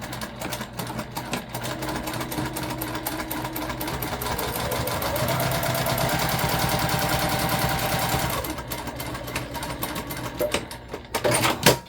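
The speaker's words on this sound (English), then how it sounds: "you just go back over your stitches that didn't line up the way that you wanted them to" A sewing machine re-stitches a summer beach pouch, going back over a skipped top stitch. It runs in a steady rapid whir that swells in the middle, then stops and gives way to softer handling clicks.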